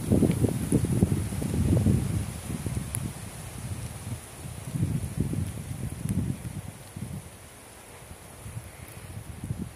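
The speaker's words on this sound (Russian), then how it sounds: "Что-то сегодня ветер разыгрался сильно." Strong wind blows around a woodland dugout shelter, gusting in surging rushes that swell and fade, with low rumbling buffeting and rustling across several seconds.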